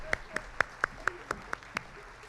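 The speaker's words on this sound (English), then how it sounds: "Let's give the 7th graders a round of applause" About eight separate claps ring out at an even, steady pace from an audience at a middle school fall choir concert, moderately close, with quiet room noise between them.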